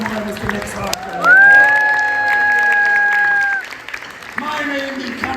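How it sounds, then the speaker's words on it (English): Theatre audience at a pirate-themed family show claps, with a long sustained cheering whoop rising over the clapping, then fading as talk resumes. "Give me a round of applause for the Captain Boy"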